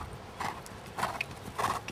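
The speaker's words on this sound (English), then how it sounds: "Very good canter." A mare cantering in a riding lesson, three soft rhythmic hoofbeats close by on arena footing, with no talk over them.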